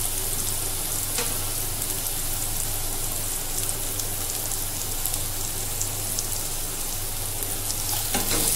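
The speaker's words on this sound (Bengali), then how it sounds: "এই আলু আর জিরা দিয়ে একটু ভাজা ভাজা করে নিতে হবে।" Potatoes with cumin fry in hot oil, giving a steady, dense sizzle with occasional sharper crackles and pops, close and continuous throughout.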